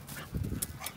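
Pitbulls on a walk whimper and let out short high yips, faint and scattered with soft breathy noise between, no voices over them.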